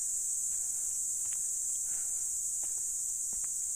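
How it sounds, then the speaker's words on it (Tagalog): Crickets chirp at night in a forest camping area, a steady high insect drone running continuously and evenly throughout, with a few faint scattered clicks beneath and no voices. "yung naririnig mo yung mga kuliglig"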